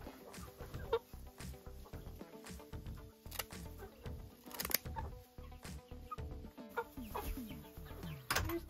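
Hens and chickens cluck repeatedly in a coop being readied for winter, with steady scattered calls and some clicks and rustling nearby.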